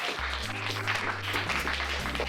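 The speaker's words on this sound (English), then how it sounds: "Give her a round of applause for that answer." A children's audience breaks into brief, steady applause and clapping, loud and close, with a low voice running underneath.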